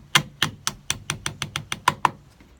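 Eleven sharp, evenly paced knocks ring out as a pin is tapped into a Mossberg 930 waterfowl edition shotgun during reassembly, each a crisp metallic-edged tap, close and clear with no talking.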